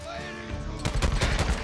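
Rapid gunfire from a weapon in the zombie video game Days Gone, played on PC while taking headshots, bursts out loud after a brief quieter lead-in with faint game ambience.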